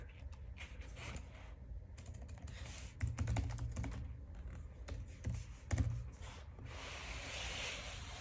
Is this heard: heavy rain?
no